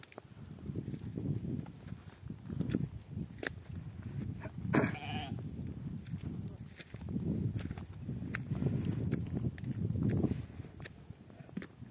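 Goats grazing outdoors bleat repeatedly in short calls, moderately near, over soft rustling and hoof steps in a quiet rural setting.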